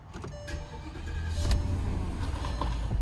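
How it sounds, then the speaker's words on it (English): A 2004 Porsche Cayenne Turbo cranks over on a cold start and catches, its engine rumble rising and settling into a loud, rough idle close by. "Do a cold start for you here."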